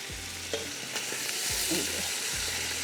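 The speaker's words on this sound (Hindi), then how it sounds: "और ये सब्जी जो है हमारी यहाँ पर फ्राई हो रही है" Vegetables frying in a pan while a barbecue pizza is made, a steady close sizzle with a few clinks and scrapes of stirring or turning, loud and continuous with no talking.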